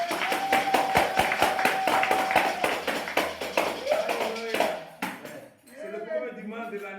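A church congregation claps in rapid, steady rhythm, loud and close, with a sustained tone ringing underneath, then the clapping thins out and gives way to singing or voices.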